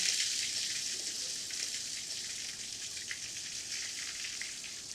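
A large, bone-in Dover sole frying in a pan over a lowered flame gives a steady, soft hissing sizzle with fine bubbling crackle, continuous and fairly quiet throughout.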